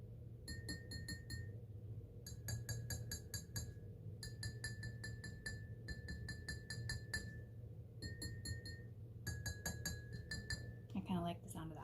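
Water-filled drinking glasses struck like a xylophone, each tuned by a different water level, ring out in bright clinking notes in quick runs and short phrases, with a steady low hum and a brief voice near the end.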